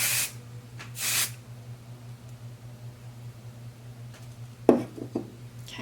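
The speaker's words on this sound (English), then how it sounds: "this was the side I used the Kevin Murphy, the bedroom hair texturizing spray" Kevin Murphy Bedroom Hair texturizing spray misted onto hair in two short hissing bursts close by, followed later by a few faint bursts and soft clicks over a low steady hum.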